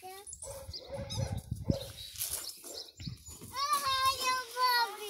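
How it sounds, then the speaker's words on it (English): Six-week-old Airedale puppies whimper and yelp in high, wavering cries that rise toward the end, close by and mixed with a child and an adult talking. "You hiding from the puppies"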